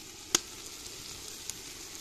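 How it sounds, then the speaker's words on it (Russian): Plov rice sizzles faintly and steadily in a kazan over a grill, a soft hiss broken by a sharper crackle near the start and another pop later, with no talk. "Все шипит и скворчит."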